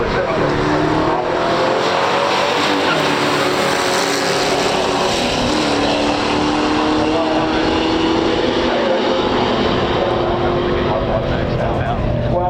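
Drag race between a 1970 Chevrolet Camaro Super Sport 396 and a 1964 Studebaker Challenger R3 in pure stock trim, loud engine roar sustained throughout with rising revs, crowd and announcer talk mixed underneath.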